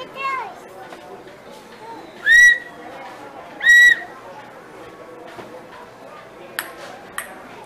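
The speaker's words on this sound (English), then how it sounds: "Oh, she got a whistle." A toy whistle blown in two loud shrill blasts, then two short faint peeps, amid children's chatter and talk nearby.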